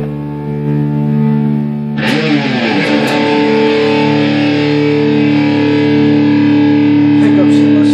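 A Jackson JS32 Dinky Archtop electric guitar on its distortion channel plays heavily distorted, sustained, buzzing chords, with a sharp attack about two seconds in, then rings on loud and close.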